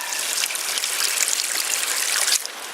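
Water gushing out of a pipe while a submersible solar water pump is flushed at an off-grid homestead, a steady close splashing rush with no talk.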